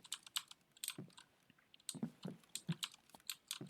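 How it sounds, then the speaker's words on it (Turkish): A computer mouse gives soft, quick clicks in irregular bursts, with some clustered close together and some spaced apart, quiet and close by, alone without speech, during Escape from Tarkov play. "Hani mouse'un orta tuşuyla ya da işte e, sağ tıklayarak onu e, açabiliriz."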